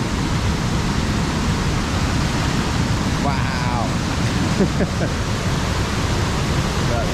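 A small waterfall at Falls Village on the Appalachian Trail keeps up a loud, constant rushing roar. Partway through, a person briefly exclaims over it.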